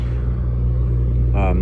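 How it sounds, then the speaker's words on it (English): Semi trucks rumble past on US Route 60 near Mountainair, New Mexico, a steady deep roar up close, with a brief voice near the end. "Here's the semis coming through"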